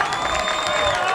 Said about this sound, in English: As the crowd is into it.